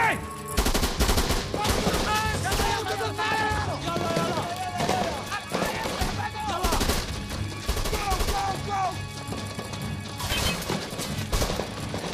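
Heavy gunfire in a war film, rapid machine-gun bursts and rifle shots rattling continuously over a loud battle din, with shouted voices mixed in.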